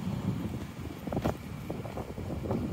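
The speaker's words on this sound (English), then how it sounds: "It's not raining at the moment, but it's still windy." Gusty wind buffets the microphone in low rumbling bursts, with some faint background noise and a few sharper thumps along the way.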